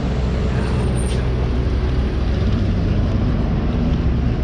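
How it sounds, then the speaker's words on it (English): A FedEx freight truck idles in a parking lot, a loud, steady low rumble that continues unchanged throughout with no talking. "there's been like a FedEx freight truck in the parking lot."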